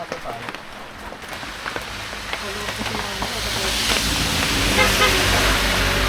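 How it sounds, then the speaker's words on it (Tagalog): Steady rain patters and hisses, growing louder over a few seconds, with a vehicle rumbling nearby and muffled voices in the background. "Inabuta kami ng ulan."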